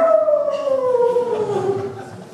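A beatboxer imitates a dog with a single sustained howl that glides steadily downward in pitch for about two seconds, loud and close, with no talk around it.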